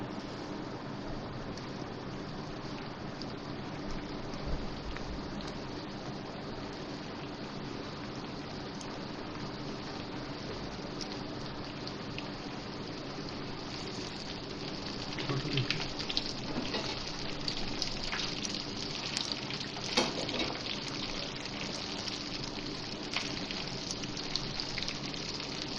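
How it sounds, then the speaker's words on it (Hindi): Chicken wings fry in hot oil, producing a dense, continuous crackling sizzle like steady rain that grows a little louder and busier partway through, with no talk. "अब मैं इसमें विंग्स डाल रही हूँ।"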